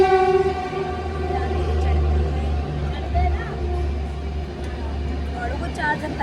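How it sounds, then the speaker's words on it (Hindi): A train stands at Mathura railway station, its deep engine rumble and hum steady and close, while voices carry on over it. "अभी हम पहुँचे हैं मथुरा के स्टेशन पे"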